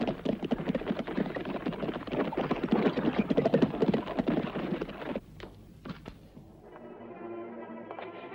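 A horse's hooves clatter in a quick, busy clip-clop across a loud outdoor scene in an old Western, fading to a few softer scattered hoofbeats before a quiet musical tail.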